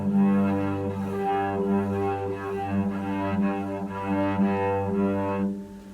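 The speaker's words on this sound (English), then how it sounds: "If my bow moves up and down, it sounds like this." A cello bowed just below the fingerboard with the bow wandering up and down the string, giving a sustained, slightly unsteady low tone that changes colour as it drifts, played alone and close.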